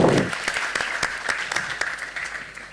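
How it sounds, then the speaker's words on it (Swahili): A live podcast audience gives a short, crisp round of applause that starts loud and thins out toward the end. "Jamani, makofi tena tafadhali."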